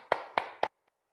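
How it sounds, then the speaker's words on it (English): Three sharp hand claps spaced about a quarter second apart, close and crisp, followed by two much fainter taps and quiet. "Clap your hands."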